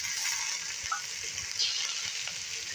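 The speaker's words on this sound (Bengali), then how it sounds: "এখন দিয়ে দেওয়া হচ্ছে কেটে রাখা মাংস।" Cut meat dropped into a hot pan with potatoes for a curry, giving a steady bright sizzle and frying hiss throughout, with a few faint clinks and stirring knocks underneath.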